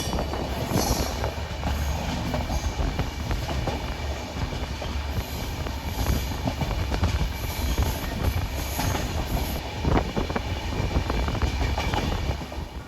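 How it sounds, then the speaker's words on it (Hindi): Amritsar Bikaner Weekly Express 14720 running at full speed of about 110 km/h, a loud continuous rumble with rhythmic clickety-clack of the wheels on the rails from start to finish. "110 किलोमीटर पर आवर की स्पीड में इस टाइम ट्रेन भाग रही है।"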